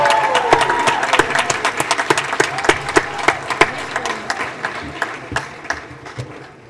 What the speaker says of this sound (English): Let's give Mike a round of applause.